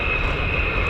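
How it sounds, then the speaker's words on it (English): F-15E Strike Eagle fighter jets taxi along a taxiway at an air force base, their engines giving a steady, loud, continuous roar and whine with no talk. "More F-15E Strike Eagles taxiing out down the catwalk."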